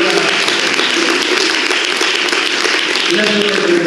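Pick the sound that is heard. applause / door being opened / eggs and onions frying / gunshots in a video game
applause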